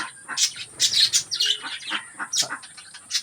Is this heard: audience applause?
no